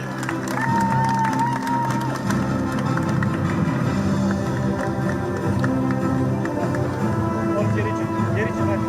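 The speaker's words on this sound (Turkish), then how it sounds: "bir alkış alabilir miyiz sizlerden?" A crowd claps at a beach volleyball tour award ceremony in Mersin. The applause is steady and dense, heard over an amplified voice and background music in an outdoor setting.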